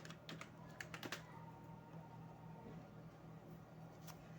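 Computer keyboard typing while a captcha is entered: a short burst of quick, faint key clicks near the start, then a single later tap, in a quiet room.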